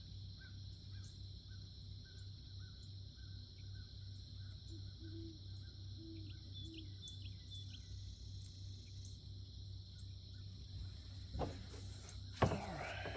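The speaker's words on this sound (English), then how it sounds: "Seagulls flying over." Seagulls calling as they fly over water on an early morning paddle, a few short distant cries over steady outdoor ambience and insect hum, with a brief louder knock near the end.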